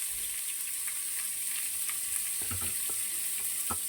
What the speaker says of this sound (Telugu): చూడండి, ఆవాలు వేగిపోయాయి. ఇప్పుడు నేను ఆనియన్స్ యాడ్ చేస్తున్నాను.